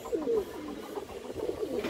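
A large female silver-line Giribaz pigeon coos softly in a few low, rolling phrases, close by, with faint background noise and no talk over it.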